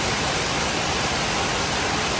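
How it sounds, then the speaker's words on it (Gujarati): Heavy rain pouring down at a cow shelter in Surat, a dense, loud, unbroken hiss filling the whole moment with no voices. "તમે જોઈ શકો છો જોરદાર વરસાદ આવે."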